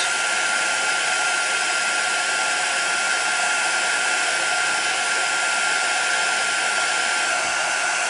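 A heat tool blows hot air on embossing powder on a stamped card, a loud, unbroken whooshing roar like a hair dryer that runs alone and steady for the whole stretch.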